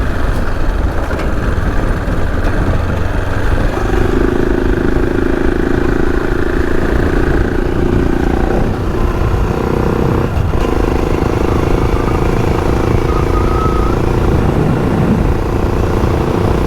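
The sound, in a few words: motorbikes riding on a dirt track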